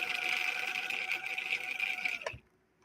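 Sewing machine running a stretch blind hem stitch, a close, steady high whir that runs for about two seconds and then stops abruptly with a brief clunk.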